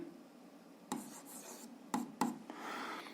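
A pen writes algebra working during a seventh-grade maths lesson, soft scratching strokes broken by three sharp taps or clicks, quiet and close with no talking.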